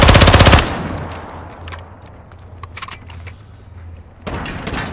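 Rapid automatic gunfire from Call of Duty: Modern Warfare II, a loud burst opening the scene, then scattered distant shots and clatter, with another burst rising near the end.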